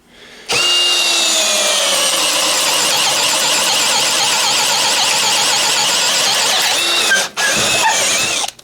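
A Popoman Teccpo 1/2-inch brushless cordless drill in low range bores through a 2x4 with a loud, steady, close whine that runs for about six and a half seconds, dips briefly, then surges again.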